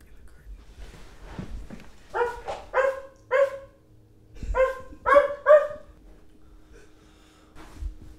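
A person imitates a dog, giving a series of short barks in two clusters of about three each, fairly loud and close, with quieter talk and shuffling around them.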